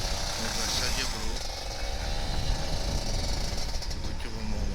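An older Kawasaki Ninja RR 150 two-stroke motorcycle idles and revs up close with a buzzy, rattling engine note, while someone talks over it.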